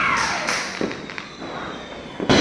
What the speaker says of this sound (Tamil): அவங்க வெடி எடுத்து போட்டு வேறு லெவலில் என்ஜாய் பண்ணிட்டு இருக்காங்க